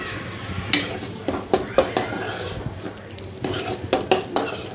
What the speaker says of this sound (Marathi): टोमॅटो पण मी छान असा तेलात परतलेला आहे, छान स्मॅश होतं।